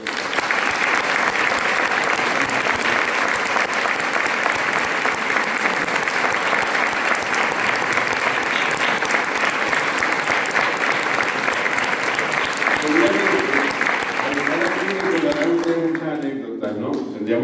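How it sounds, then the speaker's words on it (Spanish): Loud sustained applause from a church audience at a Holy Week proclamation in Los Realejos, continuous crowd clapping that fades near the end as a voice begins. "Un fuerte aplauso para ustedes."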